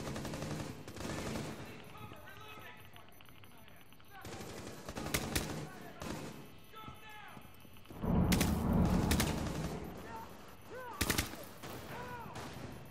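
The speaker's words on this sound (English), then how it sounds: "when in doubt, just start shooting them one at a time" Gunfire in the Rainbow Six beta video game, bursts of shots in irregular clusters with louder volleys near the middle and end, mixed with game sounds and some talk.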